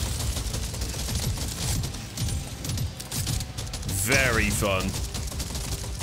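Gunfire in Deep Rock Galactic: Survivor comes as a steady, fast patter of shots layered with mechanical clicking. It runs through the whole stretch, and a voice speaks briefly over it near the end.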